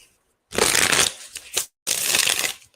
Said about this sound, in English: I like to shuffle y'all to see that they getting shuffled